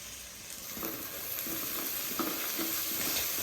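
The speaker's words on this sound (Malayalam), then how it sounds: "അതിൻ്റെ പച്ചമണം മാറി ഒന്ന് സെറ്റാവുന്നവരെ ജസ്റ്റ് ഒന്ന് ഇളക്കി കൊടുക്കും" Sliced onion with crushed ginger and garlic being stirred in a hot pan, a steady close sizzle broken by soft scraping strokes of the spoon.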